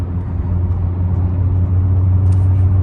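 A Honda Accord Sport engine pulling hard under acceleration, a loud, steady low rumble and whir heard close up from inside the cabin with no talking.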